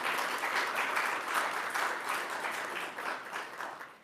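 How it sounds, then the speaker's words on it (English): A church congregation applauds warmly during a Sunday service, sustained clapping that holds steady and then begins to fade at the end. "And you can clap. You can applaud."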